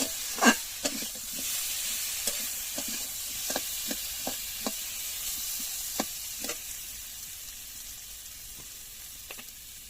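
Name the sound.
potatoes frying and being stirred in oil with turmeric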